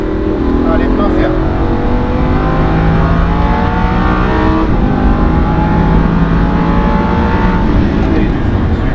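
A Lamborghini Huracán on the Le Mans circuit accelerates at full throttle, its engine note climbing through the gears in loud, continuous sweeps with brief dips at the shifts, recorded close from inside the car.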